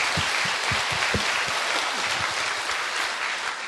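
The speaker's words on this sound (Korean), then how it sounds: "이때는 박수를 쳐야 되는 거예요." Steady applause from an audience at a talk concert after a song, a dense wash of many hands clapping at moderate distance, sustained evenly throughout.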